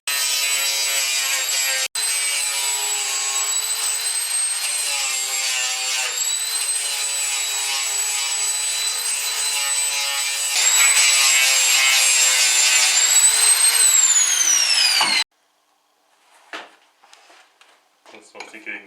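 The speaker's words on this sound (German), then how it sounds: "wir gehen jetzt mit der Flex hin, schrägen das alles noch ein bisschen ab" A loud, continuous high-pitched whine of an angle grinder bevelling steel edges, steady for about fifteen seconds, rising briefly before stopping abruptly, then a few faint clinks.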